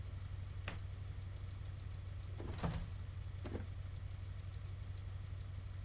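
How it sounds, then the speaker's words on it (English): Door sounds in the cab of a DB BR361 diesel switcher in Train Simulator Classic, with three short sliding, clunking bursts over the steady low hum of the idling engine. "Why does it sound like doors being opened?"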